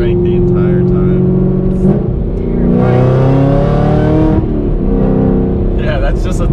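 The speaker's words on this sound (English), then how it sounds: "that's just a third gear just like putting it down." A 1,000-horsepower Hennessey Exorcist pulls hard in third gear, its engine note sustained and strong with a rising pitch through the middle, heard close up while people talk over it.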